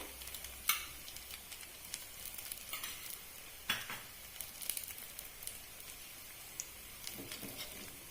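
Appe batter frying in oil in an appe pan, a steady close sizzle with scattered crackles and pops, alone without talk.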